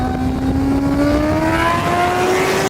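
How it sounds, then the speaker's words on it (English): Kawasaki Ninja H2R supercharged track-only motorcycle engine revving loudly up in a steady rising whine, close and continuous, cutting off abruptly at the end. "taking the crown as the fastest bike in the world is the Kawasaki Ninja"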